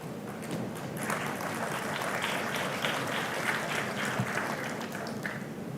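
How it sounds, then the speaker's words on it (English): An audience at a G20 digital public infrastructure summit applauds, steady dense clapping from many hands filling the hall throughout, without speech over it. "A round of applause, ladies and gentlemen, as we witness this momentous occasion."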